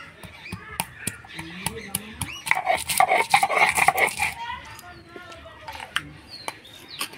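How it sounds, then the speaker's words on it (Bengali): Garlic and ginger ground together into a paste by hand on a stone, with irregular scraping, rubbing and knocking strokes that swell in the middle, close by and alongside faint background chatter. "মশলার মধ্যে আমি প্রথমে রসুন আদা একসাথে বেটে নেব"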